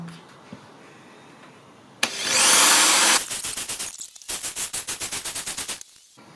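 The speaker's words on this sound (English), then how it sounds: "we've actually flattened the end of the drill bit off, and then when we put that over the top of these holes we can wear away the finish around them" A power drill with a flattened bit wears away the finish around screw holes on a Stratocaster guitar body. A sharp whirring burst is followed by quick rhythmic pulsing grinds that stop and start, close and loud.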